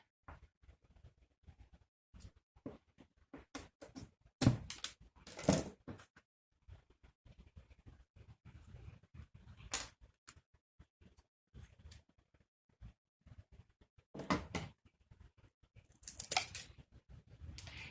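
Sharp snipping cuts from scissors cutting wooden popsicle sticks, scattered irregularly with a few louder crunchy snips, close and otherwise quiet.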